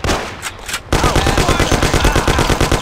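Sustained rapid automatic gunfire in the Mafia video game, loud and close, with a steady rattling burst rhythm after a brief quieter lead-in.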